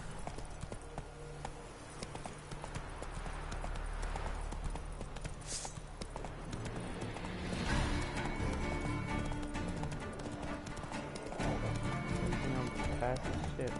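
Roach the horse gallops in The Witcher 3 with a fast, continuous clip-clop of hooves against game music and ambience, while a player talks and shouts over it.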